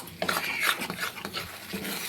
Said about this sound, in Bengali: মশলাটাকে আমি একদম ভেজে নিব।